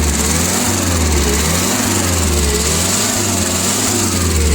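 A Nissan FG14 forklift engine with 1400 kg capacity idling steadily, a loud, even, close-up drone with a pulsing low rumble and constant mechanical noise throughout, no speech.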